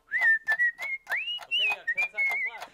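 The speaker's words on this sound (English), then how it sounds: "should I whistle something Wicked?" A man whistles a melodic show-tune phrase, sliding between sustained bright notes in several short bursts, clear and close with no talking.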